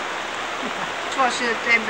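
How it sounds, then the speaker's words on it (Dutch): Rain falls during an outdoor street festival in Deventer, a steady soft hiss of drops behind brief voices speaking Dutch. "Het regent haast nooit hier. Behalve nu even."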